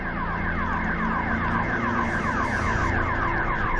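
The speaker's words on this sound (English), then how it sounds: "The sirens going off in the background" Sirens wailing at the MotoGP German Grand Prix as the grid clears before the race, a steady rising-and-falling electronic tone repeating in a fast cycle over a dense crowd and track ambience, moderately loud and somewhat distant.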